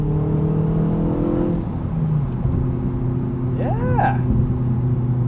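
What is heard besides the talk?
Hyundai Veloster Turbo R-Spec engine accelerating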